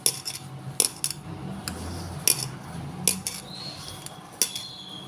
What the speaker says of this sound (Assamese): এতিয়া আটা মৰাৰ নিচিনাকৈ খুব ভালদৰে এইদৰে মাৰি ল'ব।